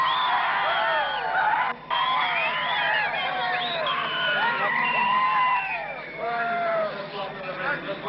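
A crowd at the 1986 County Senior Hurling Final whoops and shouts in a sustained, fairly distant roar after a hip hip hooray, with no clear individual voices standing out.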